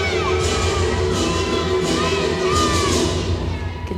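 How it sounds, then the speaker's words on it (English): Crowd noise at a college gymnastics meet, Auburn at Mizzou, with teammates cheering and whooping on a gymnast before her final tumbling pass; a steady, dense roar of voices throughout. "You can see her teammates over there cheering her on, making sure she knows she can do it."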